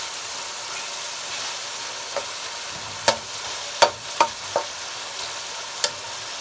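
Minced meat (keema) fries in a pan over a soft, constant sizzle, punctuated by several sharp clacks of a spoon or spatula scraping and stirring, a handful of distinct hits spread over the last half, no speech.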